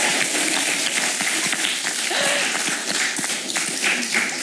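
A small audience of girls claps in a studio for several seconds, a steady dense patter at close range with light chatter underneath.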